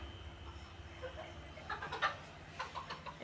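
A hen clucks softly in short, uneven bursts nearby, a few low clucks repeating against a quiet background.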